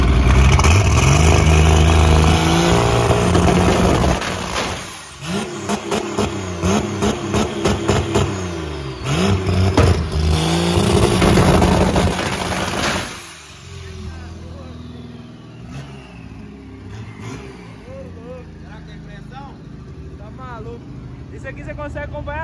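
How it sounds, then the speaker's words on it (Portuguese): A lowered car's engine at a car meet, revved in sharp bursts then settling to a rough idle, loud and close, with people talking over it throughout. "Ó, o cara ligou o carro, hein?"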